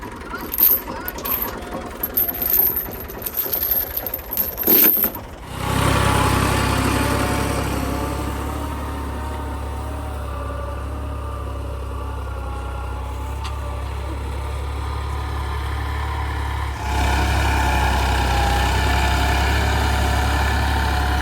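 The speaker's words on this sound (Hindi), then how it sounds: "तो सबसे पहले खेत को जोतना शुरू करते हैं, हल चलाना शुरू करते हैं।" A farm tractor ploughs a field for wheat sowing. A few seconds of rattling clicks lead into a loud, steady engine drone that lifts slightly near the end.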